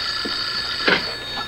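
A telephone rings in a room, heard as a steady electronic tone with a short louder burst partway through.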